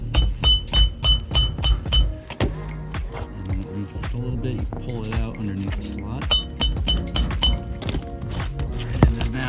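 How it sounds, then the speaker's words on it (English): Roofing nails are hammered flush on a roof vent using a roof stick, giving two bursts of sharp, ringing metallic blows, each a rapid run of strikes, with someone talking in between. "and then you hammer, excuse the noise."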